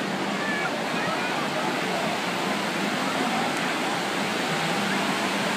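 Surf at Praia Grande beach rolls in as a steady, dense roar of breaking waves, loud and unbroken, with a crowd present on the sand.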